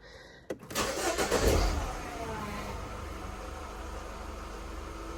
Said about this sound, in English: get the engine going